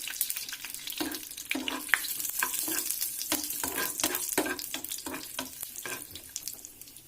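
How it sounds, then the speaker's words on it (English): Dry fruits frying in a tablespoon of hot ghee in a pan for sweet pongal, a steady close sizzle broken by repeated scraping and stirring strokes throughout, with no talking. "in a pan I'm going to heat 1 tablespoon of ghee and put in some dry fruits."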